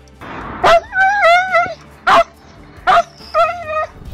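A dog found in the street, reunited with its owner, giving excited high whimpers, yips and short barks in rapid bursts, close and loud.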